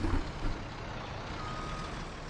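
Truck backing up on a forest farm property, its engine rumbling steadily and loud at close range while reversing beeps sound faintly beneath the drone.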